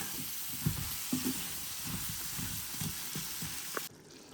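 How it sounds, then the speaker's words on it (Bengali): Okra is sautéed over low heat in a pan, giving a quiet, steady sizzle with a few soft scrapes and stirring knocks, then the sound cuts off sharply near the end. "ভেন্ডিটার এখন আমি কষা একবার ভালো মতে লো হিটে কষাবো"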